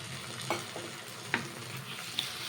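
Taro greens cooked with coconut sizzle quietly in a pan as tamarind water goes in, a soft steady frying hiss broken by a few light stirring scrapes and one small clink.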